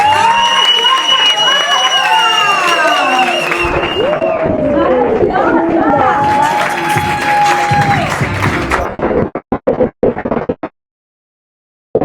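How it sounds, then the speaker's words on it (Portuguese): A crowd at a talk in Paris claps and cheers as a Brazilian speaker is welcomed to the stage, loud and sustained under music and voices, then breaking into a few scattered claps before stopping. "quero uma salva de palmas para a gente receber ela diretamente do Brasil"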